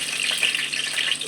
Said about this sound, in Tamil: கருவேப்பிலை போட்டுக்கிறேன். எண்ணெய் சூடாயிடுச்சு.